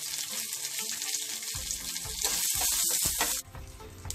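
A tempering of urad dal, curry leaves and a cut dried red chilli sizzles loudly and steadily in hot oil with no talking, then quiets abruptly near the end.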